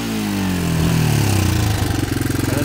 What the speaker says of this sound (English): Crank it up, you let it sit there and idle and run.